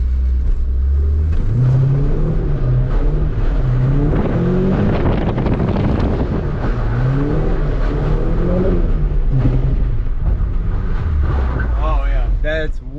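Nissan 300ZX with a KA engine pulling away in first gear on wet blacktop, its low engine note steady and loud throughout, with wind buffeting the microphone and a voice talking over it.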